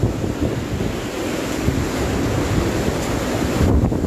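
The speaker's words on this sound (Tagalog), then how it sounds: "para tingnan nyo ang gano'ng malakas na ang hangin ni Bagyong Rolly" Strong typhoon winds of Super Typhoon Goni (Rolly) roar steadily at the Naga City Police Office in Barangay Barambin, a loud continuous blustery rush buffeting the microphone, with gusts swelling near the end.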